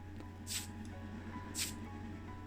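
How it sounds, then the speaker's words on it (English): Two short hissing bursts of aerosol spray paint on a Matchbox Ford Cortina model car, about a second apart, over a steady low hum in the background. "just spray a couple of little bits here whilst the door's open"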